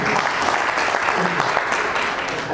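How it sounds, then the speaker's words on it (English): Audience applause at an event for a luxury apartment project, steady crowd clapping at fair volume with some voices mixed in. "So clap for us kindly."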